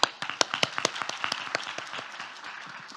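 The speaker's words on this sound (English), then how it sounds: "so let's give them another round of applause." A conference audience at a youth trends forum gives a brief round of applause, with distinct sharp claps from a modest crowd that start strong and quickly taper off within a few seconds.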